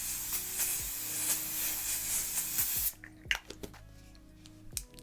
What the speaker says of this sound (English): The Kryolan? Oh, I'm not sure how to say that, but it's the fixing spray.